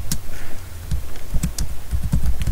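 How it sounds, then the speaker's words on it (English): Close, loud clattering of a computer keyboard as a Minecraft command is typed, with irregular bursts of key presses and thumps, no voices. "You can see what I'm typing here."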